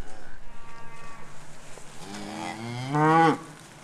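A cow moos once, a rising drawn-out call near the microphone, after a stretch of quiet farmyard background with faint rhythmic rustling.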